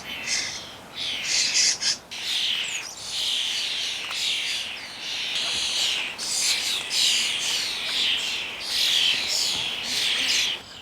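Starlings squawk and chatter continuously at garden feeders, a noisy flock of harsh, overlapping calls in close dense bursts with sparrows nearby.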